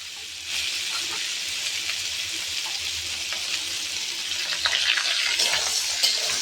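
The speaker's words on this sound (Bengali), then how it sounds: "পেঁয়াজটা দিলাম, পেঁয়াজটা দিয়ে একটু ভাজবো" Onion added to potato and eggplant already frying in hot oil gives a steady, close sizzle that runs the whole time and grows slightly louder and crackly toward the end.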